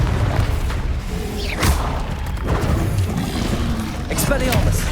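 Confringo blasting spell bursts in Hogwarts Legacy combat, a few sharp booming impacts spaced a second or two apart among dense battle effects and ambience.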